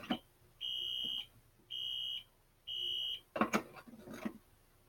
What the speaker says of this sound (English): So if I activate an alarm and reset it,